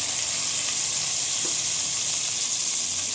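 Quail eggs, boiled and peeled, go into a pan of mushroom gravy on low flame, giving a steady, close sizzling and frying hiss with faint stirring and no talk.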